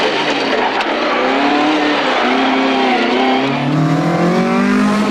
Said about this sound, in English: Graham Wilcock and John Coates have now slotted their venerable Opel Manta into fourth